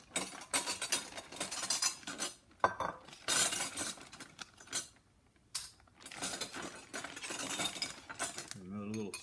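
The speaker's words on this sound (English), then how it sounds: "Another little spoon in there." A small silver spoon clinks into a pile of scrap metal: a busy series of close metallic rattles and chinks with gaps between bursts, ending in a brief burst of other sound.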